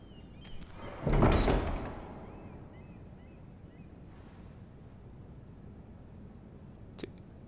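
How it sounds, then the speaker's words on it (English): A door swings open in the Game of Thrones video game, a single broad, moderately loud burst lasting about half a second, with a quiet ambient bed before and after and a faint click near the end. "you have to have the lady open the door"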